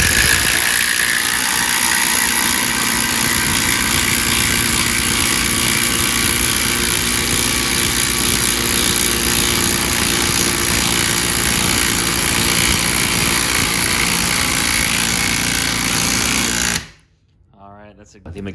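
Milwaukee and Makita cordless impact drivers hammer together in a loud, continuous rattling whine for about sixteen seconds, then cut off abruptly, with a voice speaking briefly at the end.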